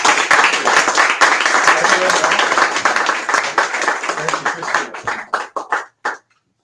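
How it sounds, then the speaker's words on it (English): An audience greeting a speaker introduction at an LBB Presents talk with Keith Boykin, a loud dense round of clapping that thins into scattered individual claps before stopping. "If you would please help me in giving him a giant round of applause"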